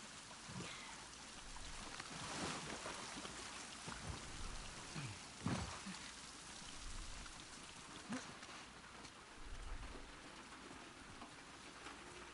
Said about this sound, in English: The rain is so calming.